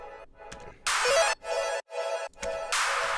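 A reverb clap in music production, bright bursts with long washed-out tails sounding several times in an uneven rhythm over quiet tonal notes.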